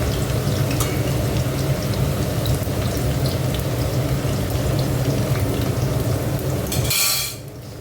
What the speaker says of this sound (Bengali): আর এখানে দেখো আলুটা ভেজে নিচ্ছি আগে।